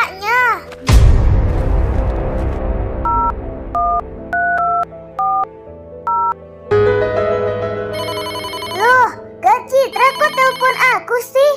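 A phone in the Sakura School Simulator game beeps through a series of dial tones and then rings with a bright electronic ringtone, loud and close, while a voice speaks over it.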